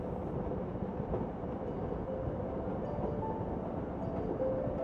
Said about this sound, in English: The train beats out a slow, monotonous rhythm beneath us.